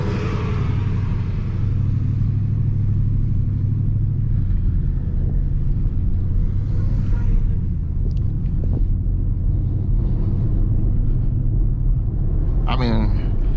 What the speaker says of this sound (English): We driving in a snowstorm with the Scat Pack 2020.